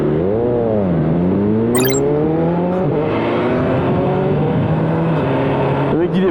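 BMW S1000R motorcycle engine with an SC exhaust revving hard, loud and close, its pitch rising and falling through sweeping throttle blips, with people talking under it.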